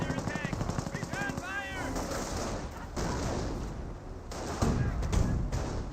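Battle din in Company of Heroes, with bursts of MG42 machine-gun fire, explosions and rapid gunshots layered under warbling effects and a constant rumble.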